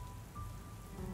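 Steady rain falls on a surface in a romance story video game, a soft, even wash of drops with no voices, heard alone and fairly quiet throughout.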